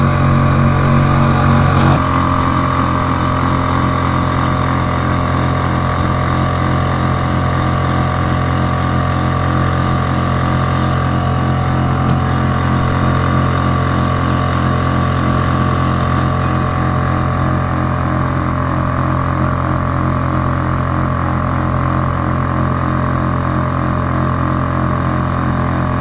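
A tiny Suzuki outboard motor on a boat on the River Weaver runs with a steady, close engine drone, its pitch shifting slightly early on and then holding constant throughout.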